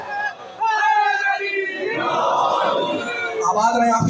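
Audience at a religious majlis in Multan erupting in loud collective chanting and cheering, a sustained roar of many voices after a brief lull, with shouted slogans swelling and overlapping.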